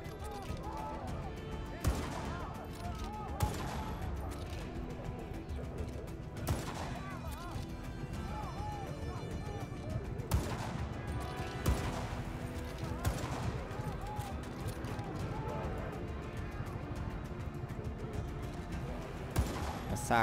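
Gunfire in the video game Just Cause 3, repeated sharp shots and thudding blasts scattered over a busy game soundscape, with someone talking over the action.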